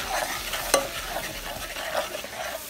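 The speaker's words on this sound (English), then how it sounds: "Then we're going to start adding some flour. We're going to stir this up." A spoon stirs flour into a whole stick of melted butter in a hot pan for béchamel, close-up scraping and soft sizzling with one sharp clack of utensil against the pan partway through.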